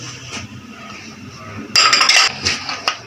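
A spoon clinks and scrapes against a bowl while yogurt and spice masala are mixed for a Lahori chicken chargha, sounding as soft stirring that turns into a cluster of bright metallic clatters partway through.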